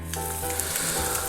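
Whole boiled eggs sizzle and fry in oil in a pan for a Kerala egg roast, a steady close crackling sizzle throughout with a light stir partway.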